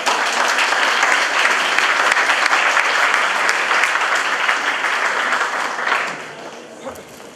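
Big round of applause at a Polish school prom ceremony, a dense, sustained wash of clapping from a large crowd that fades out around six seconds, leaving a quieter room.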